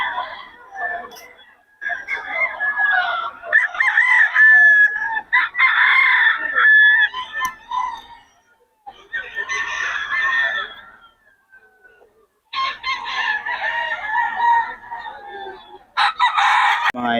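Several fighting roosters at a farm in Bocaue crow loudly and close by, in overlapping bursts separated by brief pauses, with some clucking and no speech.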